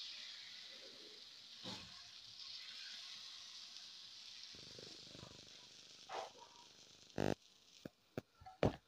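Nachni (finger millet) amboli batter on a hot pan, a faint, steady hiss running underneath, with scattered clicks and knocks of utensils and brief sharp noises toward the end.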